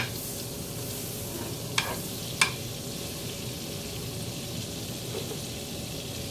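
Onion sautés in a tablespoon of margarine with a steady, moderate sizzle and two sharp utensil clicks early on, otherwise even and uninterrupted.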